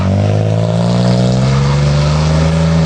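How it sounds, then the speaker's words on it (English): A 1991 Chrysler Daytona holds a loud, steady, droning rev during a burnout, its engine note close and continuous with no voices. "Hey dude, catch my burnout!"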